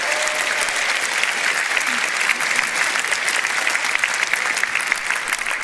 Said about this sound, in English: Big round of applause for all of our speakers here on the floor.